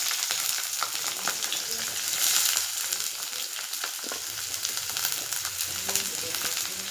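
Green chillies and onion sizzle and crackle steadily in an iron pan, a dense, continuous frying hiss with small pops throughout, close and fairly loud with no talking.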